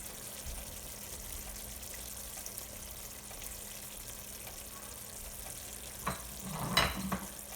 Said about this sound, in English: And just give it a good mix.